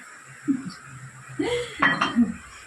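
A burnt cooking pot, left scorched after a kitchen fire, is handled with a few scattered metallic clanks and scrapes close by, one clearer knock near the middle and a sharper clatter toward the end, in an otherwise quiet room.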